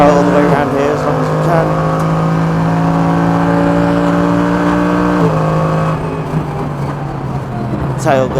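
A Mercedes AMG GT3 race car engine at full power on the Wuhan track, a loud sustained rising drone with a sharp gear change partway and a brief lift near the end.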